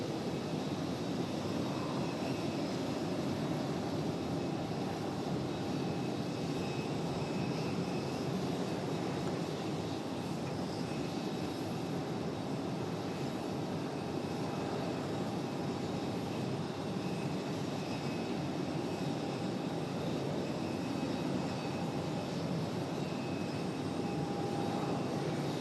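A Delta Boeing 737-9 airliner departing Raleigh-Durham International Airport, heard as a steady, broad jet engine roar that stays loud and constant throughout, with no voices.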